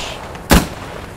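A single Nagant rifle shot in the World War II video game Squad 44, one sharp, loud, close crack with a brief tail, standing alone against quiet background.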